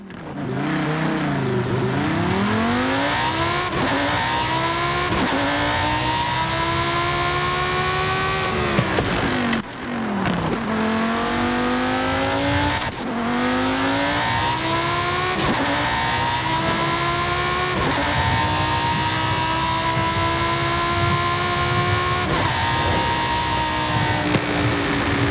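A Lamborghini track car engine in a racing video game roars loud and close, climbing steadily in pitch through several gear changes with brief dips between them.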